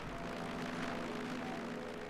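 A fixed-wing airplane flies overhead in Company of Heroes 3, a steady broadband engine drone that holds a fairly even, moderate level for about two seconds.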